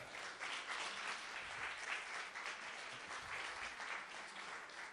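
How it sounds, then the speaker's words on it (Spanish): Applause from a church community gathering, a continuous dense wash of many hands clapping, moderately distant and even, with no talk over it. "me gustaría pues que le diéramos un aplauso"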